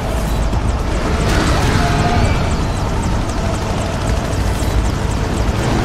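A helicopter in the video game Prototype roars loud and close, a steady, dense rotor-and-engine drone with a low rumble that carries on throughout.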